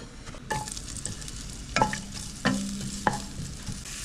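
Ginger hits the oil left from frying snakehead fish and gives a soft sizzle, with a few sharp clinks and scrapes of a utensil stirring in the pan.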